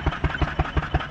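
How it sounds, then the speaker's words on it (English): A steam roller's engine runs close by at a roadworks site, chugging in a steady, evenly spaced rhythm of low, heavy pulses about six times a second, loud and clear with no talking. "It's a steam roller."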